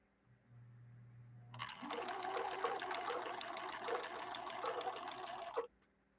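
Sewing machine stitching a zigzag with polyester thread, a quiet hum giving way to about four seconds of fast, steady mechanical whirring and clatter that stops abruptly.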